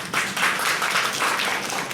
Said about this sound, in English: One round of applause for it